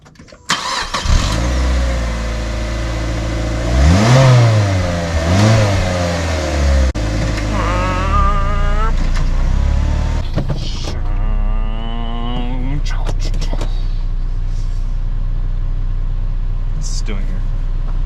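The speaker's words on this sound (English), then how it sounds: "start her up and see how this exhaust sounds" A stock 2007 Mazda Miata Grand Touring cranks and fires up close by, then its exhaust is revved several times in rising and falling bursts before settling toward idle, with people talking in between the revs.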